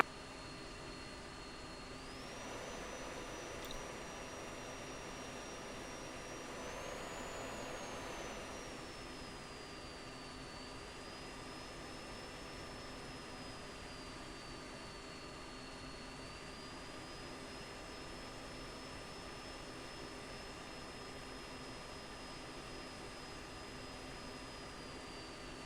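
A fighter jet's engine whines steadily during taxi in the Falcon BMS flight simulator, a sustained high tone with a low rumbling roar underneath that stays even and continuous throughout.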